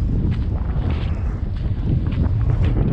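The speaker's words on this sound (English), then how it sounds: "it's pretty windy" Strong outdoor wind buffets a microphone in Azusa Canyon hill country, giving a continuous loud low rumble with gusty fluctuations throughout and no other clear sounds.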